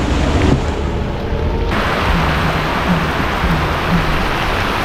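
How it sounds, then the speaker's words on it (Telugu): Heavy rain falls during a shikara boat ride on the Alleppey backwaters, making a steady, loud, hissing wash that continues without a break. "వర్షం పడుతుంది, పెద్ద వర్షం పడుతుంది కదా"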